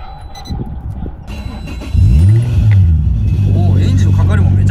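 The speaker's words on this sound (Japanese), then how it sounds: "おお、エンジンのかかりもめちゃくちゃいい。" A Toyota Supra JZA80 with a 2JZ engine on a TO4Z full-turbine kit, around 650 horsepower, cranks and catches partway through, settling into a loud, deep, close rumbling idle after a brief flare; voices talk faintly beforehand.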